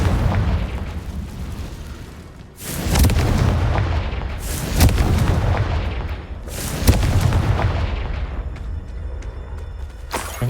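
A Confringo blasting spell in a video game sets off a series of heavy, booming explosions, four or five loud blasts spaced a couple of seconds apart, each with a rumbling decay and crackle.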